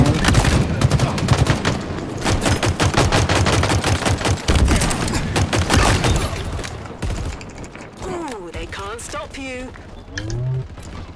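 Rapid automatic gunfire from the Halo video game crackles loud and dense in sustained bursts, then thins out while players talk over the later shots.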